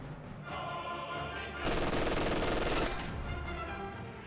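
MG42 machine gun fire sounds in the video game Company of Heroes 2 as a dense, sustained burst that rises over steady battle noise in the middle of the stretch, with no talk.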